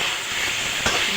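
Water splashes into a hot pan of pumpkin greens and lentil fritters, setting off a loud, steady steam hiss that fills the clip, with a brief sharper burst near the end.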